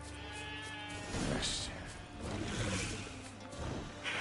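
Sheep bleating in The Witcher 3 game world, a few bleats among game sounds and music, moderately loud, with a voice briefly around them.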